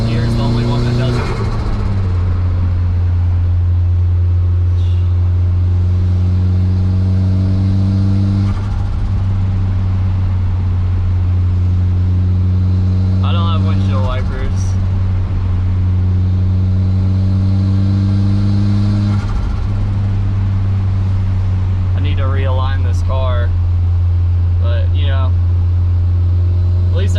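A Toyota Aristo's engine drones loud and close with a strong, steady mechanical hum, revving as the car pulls in fourth gear, with a few brief sharp noises on top.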